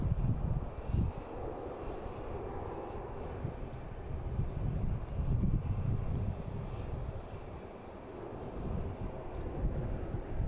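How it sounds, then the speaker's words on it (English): A Spirit Air Airbus A321 departs Boston Logan for San Juan, its broad engine roar steady and fairly distant, with some wind buffeting at the microphone. "Spirit Air heading to San Juan, an A321, flight 3013."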